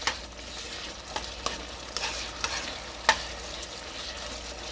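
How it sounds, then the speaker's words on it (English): Pumpkin curry being stirred in a pan, heard as soft scraping and clicks of the utensil over a steady low sizzle, close and fairly quiet. "And just give it a nice stir."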